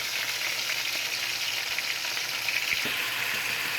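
Tomato cooks in a pan for a Cameroonian fried folong dish, giving a soft, steady sizzle that continues evenly for a few seconds with no talk.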